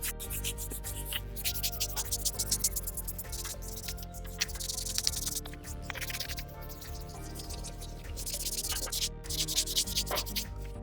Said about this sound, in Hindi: तो इस तरह का ब्रश है उससे हमें घिसना स्टार्ट करना है